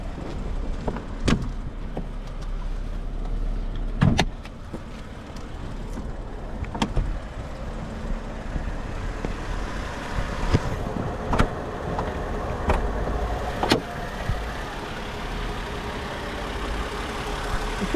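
A 2005 Mercedes-Benz E320 engine idles very quietly, a low steady hum nearly lost beneath wind buffeting and scattered handling clicks and thumps near the microphone.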